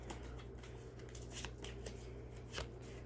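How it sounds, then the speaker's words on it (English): Tarot cards are shuffled by hand in a quiet room, giving faint repeated papery riffles and soft flicks over a low steady hum, with no talking. "I don't know if you guys can see me shuffling"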